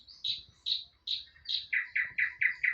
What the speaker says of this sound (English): Today, I was listening to the birds on my TV.